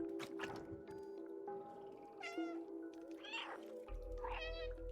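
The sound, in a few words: cat meowing in the video game Stray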